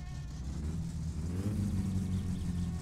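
A car engine in My Summer Car, misfiring, idles in a low, uneven rumble as it warms up, then rises briefly in pitch partway through, steady and fairly faint.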